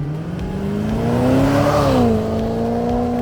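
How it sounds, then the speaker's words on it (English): BMW E39 540i wagon V8 engine running nearby during a rebuild, a loud steady idle that swells into a smooth rev and then settles back, with no talking. "The engine runs."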